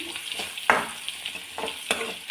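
Crushed garlic and cumin frying in hot oil, a close crackling sizzle punctuated by several sharp spatters and pops, with no talking.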